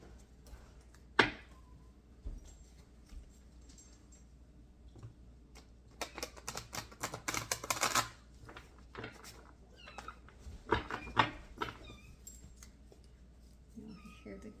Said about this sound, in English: You'll hear the kitties meowing.